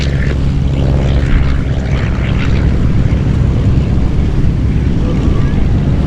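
A propeller airplane departs at Oshkosh EAA AirVenture, its engine droning loud and near in a constant roar, with wind buffeting the microphone throughout.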